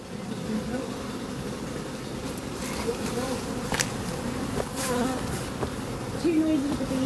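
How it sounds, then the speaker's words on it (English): Honey bees buzzing around an open hive at a UK apiary in Plymouth, a dense, steady swarm drone filling the air with individual bees zipping close by now and then. "Too noisy with the bees, can't hear."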